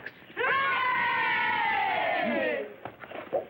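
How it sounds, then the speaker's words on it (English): A crowd of children at a school lets out a big, sustained cheer lasting about two seconds, loud and close, then fades into scattered murmurs, in a 1940 film. "Let's give a great big cheer for Mr. Fox."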